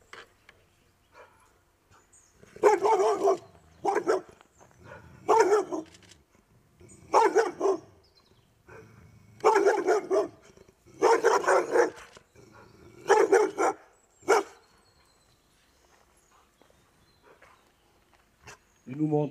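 A Belgian Malinois barks aggressively in bursts of deep, loud, close barks with short pauses between, quieter gaps where people talk in French, and a final faint bark near the end.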